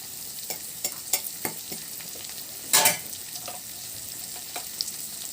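Bell pepper being stir-fried for egg noodles, with a steady background sizzle and scattered sharp clinks of a spatula scraping the pan, plus one louder rattling burst midway.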